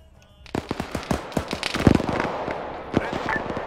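Gunfire in the Arma 3 video game during a military campaign mission, a rapid string of sharp, loud shots with a few heavier bursts, sounding close and continuing steadily after a quiet start.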